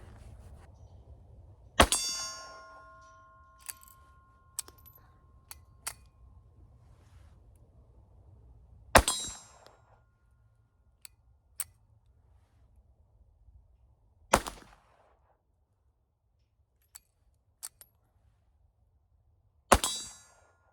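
Walther PPK pistol firing .32 ACP handloads at steel silhouette targets outdoors, heard as a few sharp shots spaced seconds apart, each followed by a ringing metallic clang, with faint distant pings in between.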